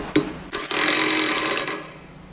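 A ratchet or wrench tightens the original pulley bolt on a Speed Queen commercial washer drum, with a few sharp metallic clicks and then a brief loud rasping burst up close.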